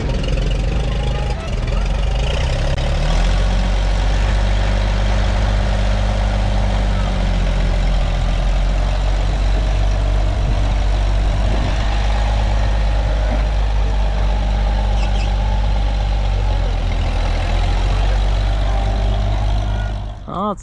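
An antique John Deere GP tractor engine idles steadily and loudly close by, with a low, constant rumble throughout.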